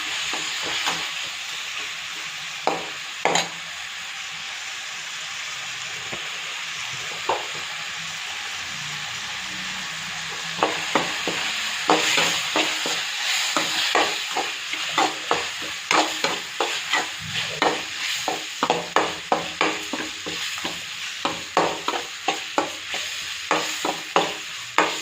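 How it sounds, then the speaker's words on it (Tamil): Tomatoes with sambar powder and salt sauté in a pan for plain sambar without dal, giving a steady sizzle and frying hiss. A spoon stirs against the pan with repeated scraping clicks that come faster and closer together toward the end. "இதை நல்லா வதக்குவோம். தக்காளி நல்லா வதங்கணும்."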